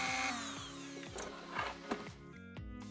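Small tool smoothing burrs off a Savage MK-II .22lr rifle part, a quiet series of short rhythmic scraping strokes with faint mechanical clicks, close up.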